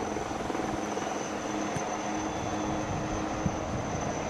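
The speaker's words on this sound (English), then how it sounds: "the advanced light helicopter has also now returned to recover the divers from their assault boats" Advanced light helicopter flying over a beach during a Navy Day display, a steady loud rotor and engine drone with a faint high whine, continuous throughout with no talk.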